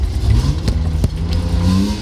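A BMW 2.5 engine blips its throttle during a downshift into first gear, a steady car-engine drone that swells in a couple of quick revving surges, close and loud, with no talking.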